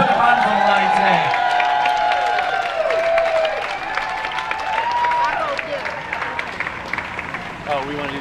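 A crowd at a Poor People's Campaign direct action protest outside HHS claps and cheers loudly, the applause gradually thinning out while a voice speaks over it.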